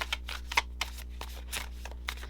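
Tarot cards being shuffled by hand, a run of rapid papery riffles and flicks repeating close up over a low steady hum, with no talk.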